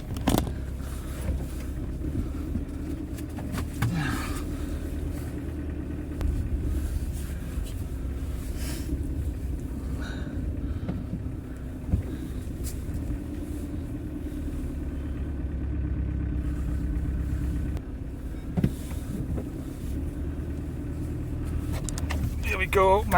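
A camper van engine runs as the van drives up onto a kerb on a winter trip in Scotland, a steady low rumble throughout with occasional knocks and bumps over it.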